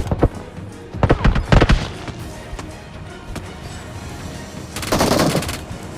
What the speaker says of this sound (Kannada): ರಿಕಾಲ್ ಟವರ್ ಹತ್ರ ಫೈರ್ ಸೌಂಡ್ ಆಯ್ತು.